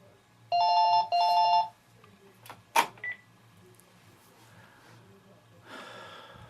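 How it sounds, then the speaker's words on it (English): A telephone rings twice in quick succession, loud and close, followed by a sharp breath or snort and some quieter movement and faint sounds in an otherwise quiet room. "this damn phone's annoying me"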